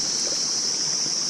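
A mountain stream flowing near the Dakshinkali temple during Dashain, heard as a steady, close, loud rush of water that stays even throughout with no talk.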